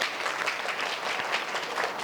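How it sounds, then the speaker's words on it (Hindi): Applause from a crowd at a community gathering in Nagpur, cheering game winners: a dense, steady wash of clapping for a couple of seconds with no speech over it. "जोरदार तालियां इनके लिए।"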